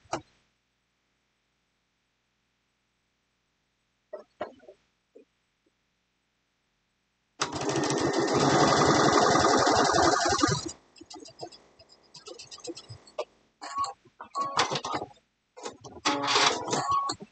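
A sewing machine runs in a loud steady burst of a few seconds, followed by shorter intermittent stitching bursts and small clicks amid near silence.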